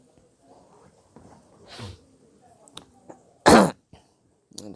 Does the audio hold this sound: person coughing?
yes